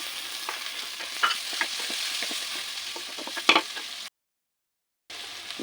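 Chopped tomatoes with ginger and kanthari chilies frying in a pan, a steady soft sizzle broken by scraping stirs and clinks, close up, with a brief break near the end.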